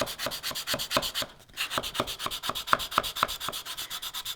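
A flexible sanding pad is worked by hand into a wooden internal corner, making rhythmic back-and-forth scratchy strokes at about four per second. The strokes are close and steady, with one brief pause.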